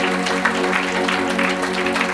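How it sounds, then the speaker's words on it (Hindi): Audience applause at a Hindi-language Christian ministry gathering, a steady dense wash of clapping over a sustained musical drone, moderately loud and continuous with no speech. "और जोरदार तालियां बजाएंगे हम लोग।"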